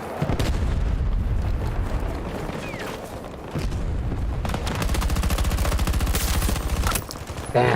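Gunfire in a military shooter video game, dense bursts of rapid shots and booms rolling almost continuously, loud and close with sharper rattling volleys toward the end.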